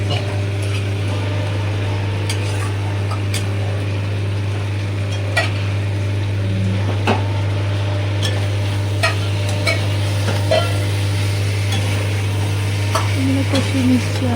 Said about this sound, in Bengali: কষিয়ে নিচ্ছি আলুটা, আলু ফুলকপি দিয়ে মশলাটা বেশ গায়ে মাখিয়ে নিচ্ছি